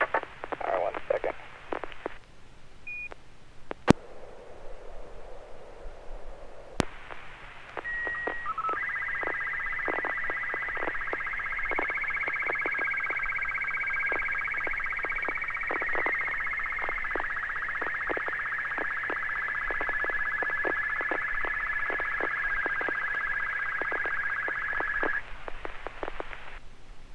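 Slow-scan television image tones played from a phone held beside a handheld radio: a steady warbling tone band with rapid sync pulses runs continuously for about seventeen seconds, loud and alone, after some brief talk and clicks.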